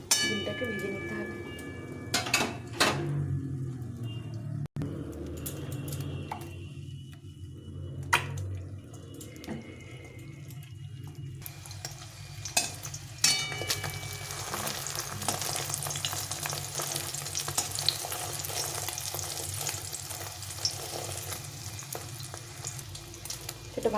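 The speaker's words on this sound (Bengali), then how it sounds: "এভাবে ডিমটাকে ভেজে নিতে হবে।" Sizzling and spatter of a duck egg omelette frying in a wok, with scraping stirs and a sharp clatter near the start, steady frying continuing through the middle and getting louder and brighter toward the end.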